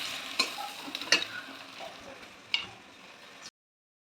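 Prawns stirred and fried in hot oil in a pan, a few sharp scraping clatters over a soft sizzle that stops short near the end.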